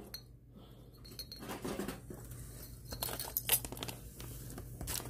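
Delicate old glass Christmas bulbs clink and chink against one another in scattered, light taps amid some handling rustle, fairly close and moderately quiet, with no talking.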